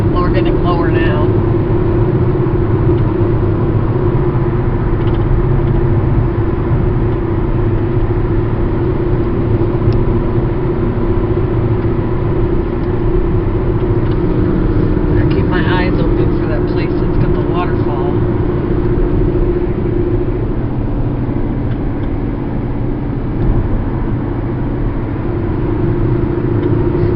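Steady loud rumble of a car cruising down a road toward a gorge in Canada, a constant droning engine and tyre noise throughout, with people talking in the cabin over it.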